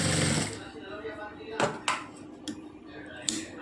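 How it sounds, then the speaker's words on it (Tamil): A sewing machine stitches along the back neck edge of a blouse, a dense whirring run at the start followed by a few short clicks and bursts of stitching, close and moderately loud. "இந்த கடைசி எட்ஜு வரைக்கும் வந்து நம்ம அப்படி தைச்சிக்கலாம்."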